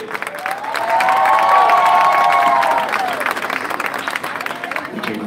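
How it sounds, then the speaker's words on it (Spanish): Loud crowd applause with cheering and whoops for Adán Allende at a live show, swelling quickly and holding steady for several seconds before easing into lighter clapping. "Un fuerte aplauso, por favor, para Adán Allende"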